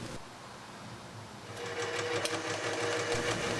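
Crankshaft for an LS 5.3-litre engine spinning on a balancing machine in a machine shop, giving a steady mechanical whir that grows louder partway through and runs continuously to the end.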